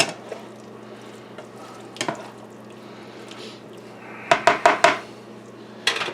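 Seasoned burrito filling being stirred in a skillet, scattered utensil scrapes and clinks against the pan, with a quick burst of four sharp knocks and a faint sizzle underneath.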